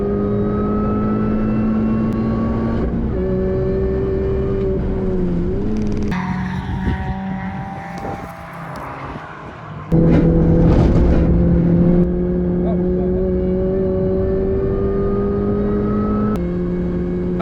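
Budget Mini Cooper race car lapping Oulton Park, its engine droning loud and close from the cabin, pitch climbing through gears with sharp shifts, a dip under heavy braking, then hard acceleration again.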